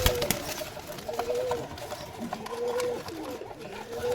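Pigeons kept for sale cooing in repeated low, throaty rolling calls, close and steady, with faint human voices in the background.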